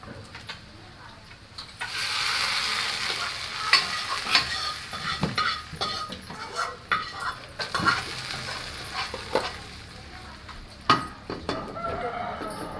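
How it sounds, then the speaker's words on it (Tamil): Hot tempering for sambar sizzles and crackles as it is poured into the pot, a loud hiss that settles into irregular pops and stirring clatter close by in a home kitchen. "வாங்க இந்த தாளிச்சதை வந்து அப்படியே எடுத்து நம்ம சாம்பார்ல போட்டுருவோம்"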